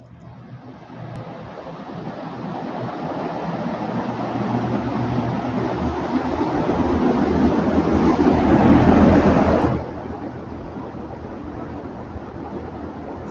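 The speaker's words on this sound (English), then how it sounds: "But it's very windy with a fan going." Steady broadband wind blows hard with a fan running nearby, building slowly and peaking before dropping abruptly to a quieter constant rush, with no talking.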